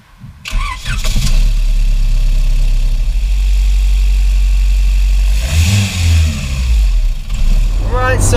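A Honda Civic EK4 with a remapped B18C6 engine and individual throttle bodies starts and runs with a deep, loud idle, then rises in a couple of sharp revs before dropping back, heard close up.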